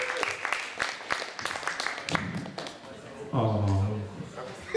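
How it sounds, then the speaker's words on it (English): An audience applauds contestants at a Mock UL 2015 show. The clapping is light and scattered, with a presenter's voice speaking over it near the microphone. "Round of applause for our contestants."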